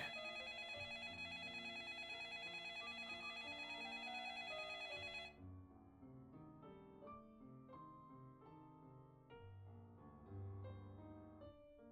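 A telephone rings with a steady, repeating electronic tone for about five seconds, then cuts off, leaving quieter mixed background sound.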